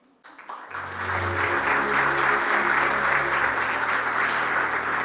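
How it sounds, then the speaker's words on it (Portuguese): Audience applause at a corporate security awards meeting as a presenter is called to the stage, starting abruptly and swelling into steady, dense clapping that holds loud and even throughout. "por favor, Humberto Batista, um aplauso."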